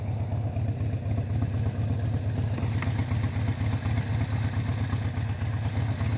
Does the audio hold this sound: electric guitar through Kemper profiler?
no